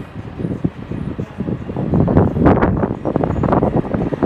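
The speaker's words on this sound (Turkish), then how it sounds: "buz gibi ya, buz rüzgar, buz." Icy cold mountain wind buffets the microphone in loud rumbling gusts above 1000 meters in the mountains of Kosovo, growing stronger midway and continuing steadily without any talk.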